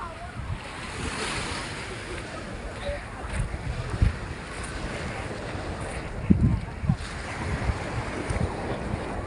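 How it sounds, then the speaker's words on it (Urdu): Sea waves wash onto Kite Beach near the Burj Al Arab in Dubai at night, a continuous rushing surf with occasional heavier breaks and gusty wind buffeting the microphone. "یہ جو سمندر کا یہ جو لہروں کی آواز ہے نا"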